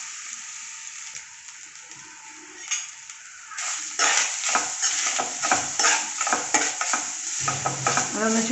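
Grated coconut frying in a spoonful of oil in a pan, a quiet sizzle at first, then louder once stirring starts, with rapid scraping strokes against the pan close by and no speech.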